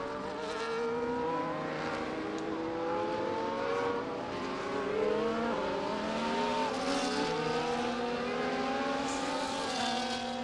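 Race cars including a Ferrari racing on a Miami circuit, engines screaming and shifting pitch as they climb through gears and downshift, several cars droning together at close range without a break.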